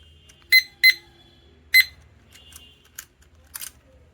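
Short electronic beeps from a digital study timer sound in a quick pair and then a single beep, followed by a few softer clicks and chirps, close by.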